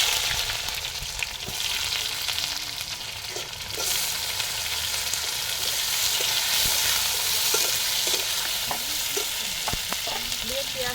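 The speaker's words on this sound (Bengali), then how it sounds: "আমি পেঁয়াজটা ভাজবো ভেজে নেবো" Onion frying in oil in a pan for a soybean dish, a loud continuous sizzle heard close up, with occasional stirring clicks and scrapes and no talking.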